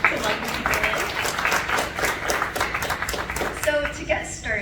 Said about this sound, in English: a round of applause is nice to welcome people in